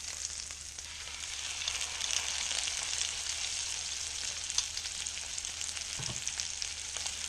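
A venison loin fries in butter and garlic in a pan, giving a continuous close hiss and fine crackle that stays even throughout, with a faint clunk near the end and no voices.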